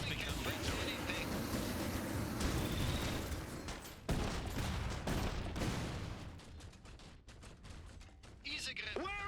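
Battlefield gunfire in Iron Harvest, Saxony against Rusviet in an industrial area: a dense, continuous fusillade of rifle and machine-gun shots with sharp cracks and booms, steady and loud for over nine seconds, with occasional unit voices.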